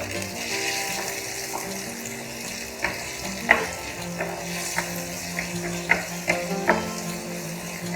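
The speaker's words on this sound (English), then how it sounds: "At this stage we'll add in the ginger and green chilies along with the tomatoes" Ginger, green chilies and tomatoes fry with golden onions in a pan for akuri, a soft steady sizzle broken by a few clicks and taps of stirring.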